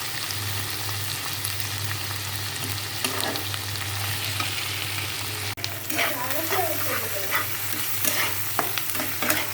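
Ginger and garlic sizzle in a hot pan while a spoon stirs and scrapes through them, a steady close frying hiss with a low hum underneath and faint voices now and then.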